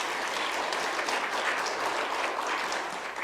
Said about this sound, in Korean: 여신도들에게 여러분 박수 한번 쳐주십시오.